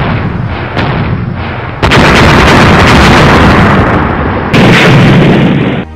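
Cannon fire in a battle scene from the Indonesian historical film Sultan Hasanuddin, heavy loud booms and blasts merging into a sustained roar of artillery with abrupt surges in intensity.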